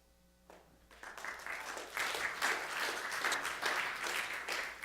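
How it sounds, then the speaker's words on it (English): Audience applause at a talk, beginning after a brief quiet moment and swelling into a steady, moderately loud round of clapping from a crowd that carries on throughout. "Clap for him. He deserves it."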